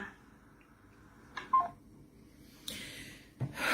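Telephone keypad tones as a number is dialed: a few short, sharp beeps separated by pauses, with key clicks in a quiet room.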